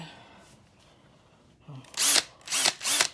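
Sawzall reciprocating saw in a home workshop, starting with a short rev, then running in two loud, harsh bursts close up after a quiet lead-in.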